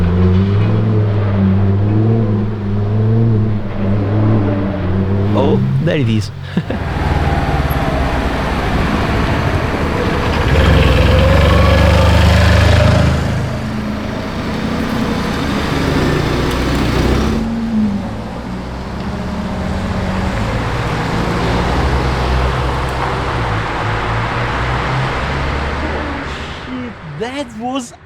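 A Lamborghini Revuelto with its V12 engine on the road, rumbling and swelling as it passes with a rising rev, loud and fairly near, while excited people talk over much of it.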